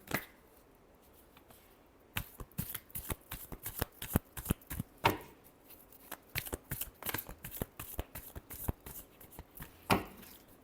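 Tarot cards are shuffled by hand in rapid bursts of crisp riffling snaps after a quiet opening, close and clear with no talking.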